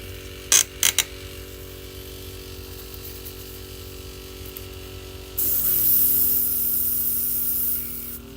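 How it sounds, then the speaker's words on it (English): An airbrush is cleaned out after painting a Warhammer miniature: a steady mechanical hum with a few sharp clicks early on, then a loud, bright hiss of spraying air that runs for a couple of seconds before easing off. "And now we're just cleaning out the airbrush."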